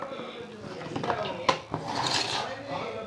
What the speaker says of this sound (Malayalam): ഞാനിതൊന്ന് നന്നായിട്ട് മിക്സ് ചെയ്ത് കൊടുക്കുകയാണ്